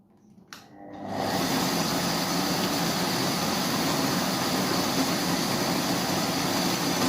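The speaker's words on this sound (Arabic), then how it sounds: "غادي نضربوا هاد العناصر مزيان مع بعضياتها" Garlic cream ingredients with vinegar and lemon juice being blended together, a steady, loud whirring motor hum that starts after a brief quiet moment and runs continuously to the end.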